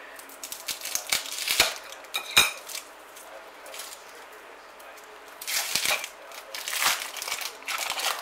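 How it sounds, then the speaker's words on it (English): A plastic layer is peeled off a tin of salmon, making close, bursty crinkling and rustling with a few sharp clicks in two busy stretches separated by a quieter pause. "Now we want to take the first layer of plastic off."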